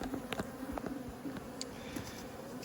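Honeybees flying actively around a hive during swarm-prevention work, a steady faint buzz with occasional closer insect passes and light handling clicks.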